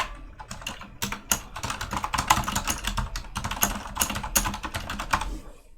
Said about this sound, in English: Oh, you want to type on the keyboard?